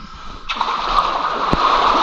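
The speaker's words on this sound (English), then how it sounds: "Launch forward with the noodle and just swim to me." A child swimming forward with a pool noodle, a sudden close splash followed by continuous sloshing and churning water that carries on loudly without talk.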